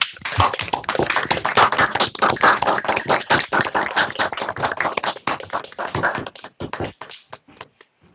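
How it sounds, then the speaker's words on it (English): Participants in an online user-group meeting clapping through their microphones, a loud, irregular burst of overlapping hand claps that grows sparse and trails off into a few last isolated claps. "if everyone can come off mute and give all 3 of our speakers a big round of applause"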